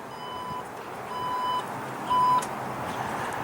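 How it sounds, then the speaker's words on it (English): A 2016 Porsche Cayenne power tailgate closing: a few short electronic beeps sound with pauses between, over a soft hum and faint background noise of a busy auto show floor. "Power tailgate."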